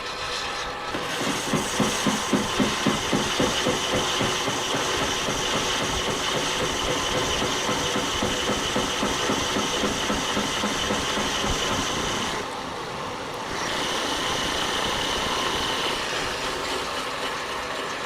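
Solid stainless steel 304 billet being machined with a 1 mm cut, a loud, steady metallic grinding drone with a rapid rhythmic pulse throughout, briefly dipping midway before resuming alone.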